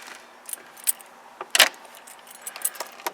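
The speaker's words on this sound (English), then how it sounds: "Key in the ignition" Car keys jangle on their ring as a key slides into the ignition switch of a car with a manual choke handle, giving short bright metallic clinks against a quiet background.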